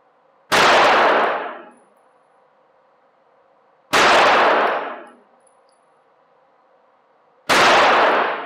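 Three sharp, loud gunshots from a handgun fired at a target for a baseline group, evenly spaced about three and a half seconds apart, each with a short ringing decay and no talking.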